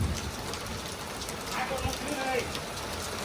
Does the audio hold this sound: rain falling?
yes